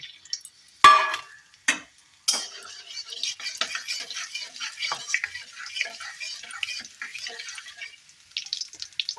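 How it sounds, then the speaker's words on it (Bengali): Bay leaf, dried red chilli and cumin seeds drop into hot oil for ghugni. A few sharp knocks come first, then a thin, crackling sizzle runs on at moderate level without speech. "তেলটা বেশ সুন্দরভাবে গরম হয়ে এসেছে চলো ফোড়নগুলো দিয়ে ফেলি"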